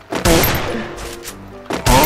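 Pistol gunshots in a competitive video game match, two loud sharp bursts of shots separated by a short gap, close and punchy with no talk over them.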